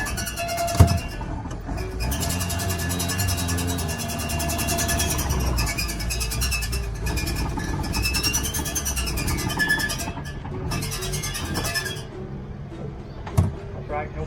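A little Crosley car with no brakes is eased back into its spot, its small engine puttering low and close while people talk over it, with a door clunk or two.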